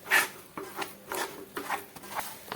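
A spoon or spatula scrapes and rubs through moraiyo (barnyard millet) flour cooking in a kadai over low gas, giving repeated soft rasping strokes about every half second, close and moderately quiet with no talk.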